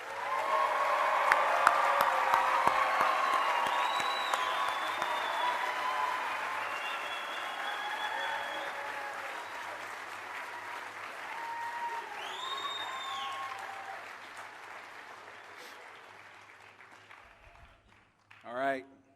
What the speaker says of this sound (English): give all of these new officers a round of applause